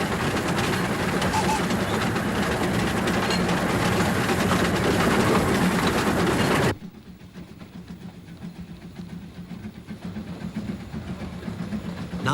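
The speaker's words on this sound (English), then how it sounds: "as the train puffs along" Welshpool & Llanfair Light Railway steam train runs through green hills with a dense, loud rolling rumble that drops abruptly to a quieter, steady running sound partway through, with a voice faintly present.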